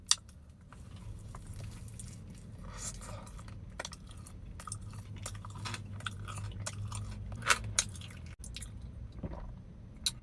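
Close, wet chewing of a Snickers-filled puff pastry cronut donut, soft squishy bites and mastication continuing steadily for about ten seconds with a few sharper crunches, no talking.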